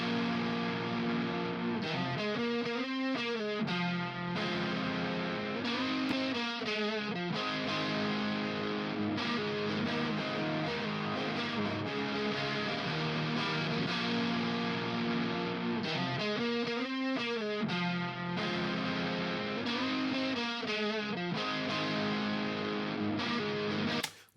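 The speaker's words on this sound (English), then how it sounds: "Wakes up our electric guitar tone, gives us some of that nice fuzz" A fuzzy, distorted electric guitar, with a boost pedal engaged, plays a riff of sustained chords with brief rhythmic breaks, loud and steady throughout.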